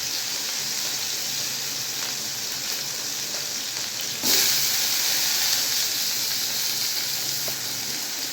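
Finely chopped onions sizzle in hot oil that already holds mustard seeds, fenugreek and cumin for a kuzhambu. A steady hiss swells suddenly midway as the onions hit the pan, with no talking.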